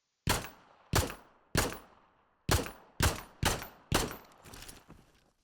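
Seven sharp pistol shots in a multiplayer first-person shooter game, loud and close, fired in an uneven rhythm with short reverberant tails, the last one softer and more drawn out.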